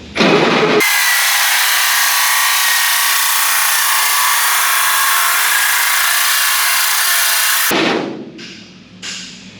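A power drill drives a hole saw through a panel, a loud, steady high whine and grinding for about seven seconds, then stopping abruptly, followed by a few brief rattles and bumps.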